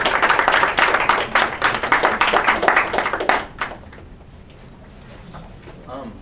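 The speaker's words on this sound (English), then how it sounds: "Let's give that some applause." Small classroom audience in a physics lecture claps briefly for a wave reflection demonstration, a dense patter of hands for about three seconds that fades into quiet room noise.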